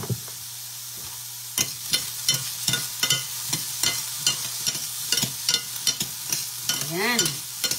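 Extra virgin olive oil sizzles steadily in a pan, with repeated sharp scraping clicks of stirring and a brief squeaky rising tone near the end; no one speaks.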